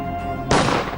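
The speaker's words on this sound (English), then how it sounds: "The tranquility of the night is suddenly shattered by gunshots" A single sharp gunshot-like crack bursts out at night in a residential apartment block, loud and close, cutting through a low steady hum before it.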